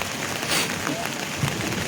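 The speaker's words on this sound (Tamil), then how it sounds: "சரியான மழை" Heavy rain pours down steadily near a riverbank after work at a river confluence, giving a dense, broadband hiss with no breaks and faint voices somewhere beneath it.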